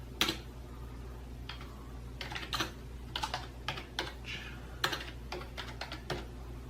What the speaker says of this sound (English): I'm just gonna type every letter, see if it's working